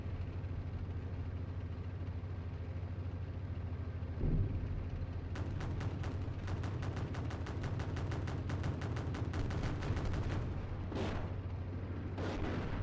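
Gunfire in the Steel Beasts Pro PE tank simulator game, a rapid string of sharp automatic shots over a constant loud engine drone, followed by two more separate bursts.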